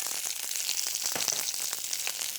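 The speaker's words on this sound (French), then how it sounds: "Quand l'huile est chaude, on ajoute les oignons qu'on a préalablement épluchés et émincés." Sliced onions frying in hot olive oil in a sauté pan give a dense, continuous bright sizzle with fine crackling pops, heard close and steady with no one speaking.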